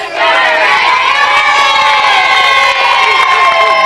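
A studio audience on the 1996 sports panel show They Think It's All Over cheers and shouts loudly during an egg-throwing game, a dense, continuous roar of voices that holds steady for the whole stretch.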